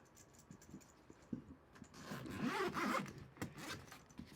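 A zipper drawn along a Tenba Cineluxe 21 roller carry-on bag in scratchy, uneven pulls, quiet and close, swelling in the middle and tapering off with small rustles.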